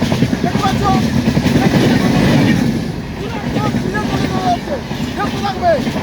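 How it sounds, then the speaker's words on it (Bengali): An approaching train rumbles along the rails at night with a rhythmic clatter and a few faint squeals, heard under a person talking nearby. "দেখো সামনে লাইট দেখতে পাচ্ছ, সামনে ট্রেন আসছে"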